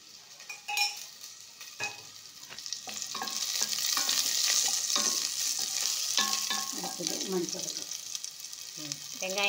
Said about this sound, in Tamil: வெங்காயத்தை போட்டு நல்லா வதக்கி கொடுங்க